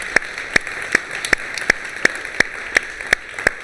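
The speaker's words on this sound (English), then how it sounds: "we've got to give this man Stefan a round of applause for directing these shows." Applause for Stefan, the director, at a panel discussion on creativity, heard as about ten sharp, evenly spaced claps in a steady rhythm, close and distinct against a quiet background.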